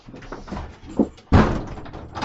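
A door shuts with a sudden solid thump partway through, with a softer knock just before it, in a house where dogs could push it open; the room noise carries on faintly afterward.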